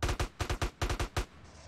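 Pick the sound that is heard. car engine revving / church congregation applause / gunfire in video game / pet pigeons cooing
gunfire in video game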